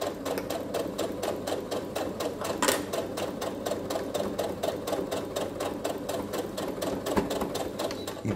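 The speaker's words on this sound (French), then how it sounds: "je fais ma couture tout le long" A sewing machine runs fabric through in a steady, rapid stitching rhythm while a Christmas drawstring pouch is sewn, the mechanical chatter continuing close and unbroken to the end, with no talking.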